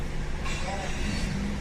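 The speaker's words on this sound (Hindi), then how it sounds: "गाड़ी स्टार्ट हो गई अल्हम्दुलिल्लाह।" A Mazda CX-3 engine cranking and catching into a rough idle after an ECU connector fault was fixed, a loud close mechanical rumble lasting under two seconds.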